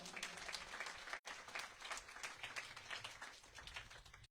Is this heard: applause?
yes